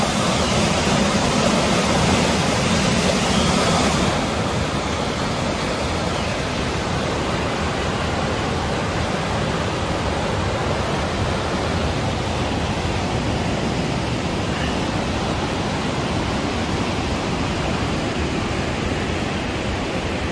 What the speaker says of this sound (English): there's a waterfall on the other side of this thing